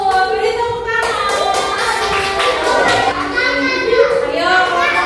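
A classroom of young children applauding together, a dense steady patter of clapping layered under excited kids' voices and a teacher speaking, loud and close throughout.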